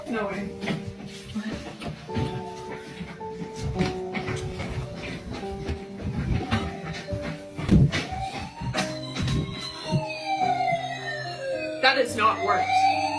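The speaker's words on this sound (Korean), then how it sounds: "아버지 방에 있던 소방차 장난감이 작동한 것입니다" A toy fire truck's electronic siren wails in sweeping rising and falling tones alongside beeps in a room, while a voice talks over it.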